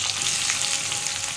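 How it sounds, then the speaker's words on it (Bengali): Onions fry in hot oil after a chili tempering for a pointed gourd poppy-seed dish, giving a dense, even hiss that stays loud and close throughout the brief moment, with no voices. "এবার পেঁয়াজ দিয়ে দিলাম, পেঁয়াজগুলো আমি ভেজে নেব।"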